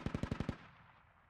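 Six rapid, evenly spaced gunshots ring out in a quick burst from a weapon in the military shooter SquadOps, then a fading echo and low rumble trail off into quiet.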